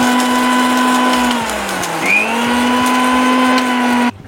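Kitchen blender grinding garlic, black pepper and cumin for a coconut and peanut chutney, a loud steady motor whir with a brief dip in pitch midway before cutting off abruptly.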